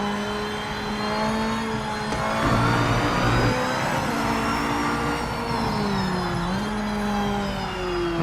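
A race car engine in the video game Project Motor Racing holds a steady, whining mid-pitched drone, shifting pitch slightly as revs rise and fall, alone with no talk.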